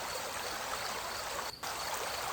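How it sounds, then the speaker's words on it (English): A small stream burbles and trickles steadily in a misty wooded setting, a continuous close wash of running water with a momentary dip near the end. "The gentle burble of small fish darting through the water."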